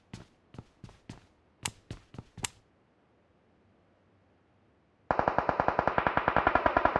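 Gunfire in PUBG Mobile: a handful of separate, sharp single shots at first, then after a short silence a loud, rapid automatic burst of evenly spaced rounds.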